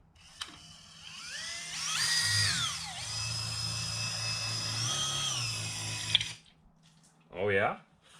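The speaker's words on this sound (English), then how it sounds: "we use the priming attachment for the drill on the oil pump" A power drill fitted with a priming attachment spins a truck's engine oil pump with the intake removed, giving a steady mechanical whirring hum with a brief high whine burst and voices talking over it near the end.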